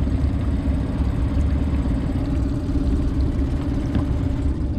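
A Suzuki DF9.9 outboard motor idles steadily with a low, even mechanical drone and no other sounds.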